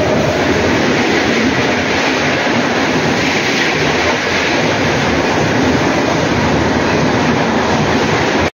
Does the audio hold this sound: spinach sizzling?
no